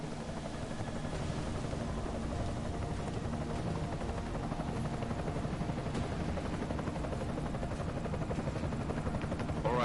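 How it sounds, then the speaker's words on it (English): An enemy helicopter in the video game Deus Ex fills the scene with a continuous, steady rotor thrum and wash, heard alone and holding at a constant loudness throughout. "Enemy helo sighted."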